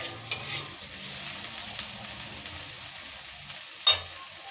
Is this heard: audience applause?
no